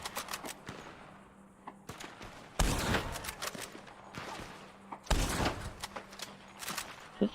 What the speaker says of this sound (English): Sit still so I can shoot you